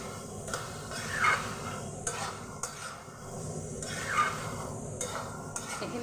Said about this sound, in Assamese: তেল ফুটি ফুটি ওলাইছে